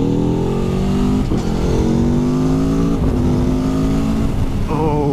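A new Aprilia Tuono V4 motorcycle accelerating hard, its loud close engine note climbing steeply through several gears with brief dips at each shift, alone with no talk.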